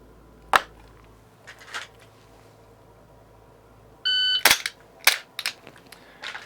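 Several gunshots fired at a shooting target, sharp broadband cracks spaced out with a few quieter distant pops, plus a steady electronic beep tone from a shot timer partway through.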